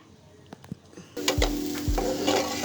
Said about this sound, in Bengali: এবার এটাতে মুগ ডালগুলো ভেজে নেব।